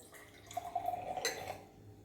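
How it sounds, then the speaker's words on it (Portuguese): Water poured into a drinking cup for a simple science experiment, a brief liquid splash and trickle lasting about a second, close and fairly quiet with a faint low hum underneath. "Vou colocar um pouco de água nesse copo."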